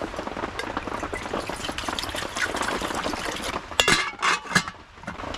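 Water pours and splashes from a handmade stitched leather water skin inside a hand-built log cabin, a steady trickling wash that grows into louder gurgling bursts near the end, with no talking.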